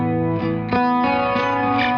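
An electric guitar with chorus and distortion effects changes chords with a shift in harmony, a sustained chord followed by a fresh strike, close and full with no speech.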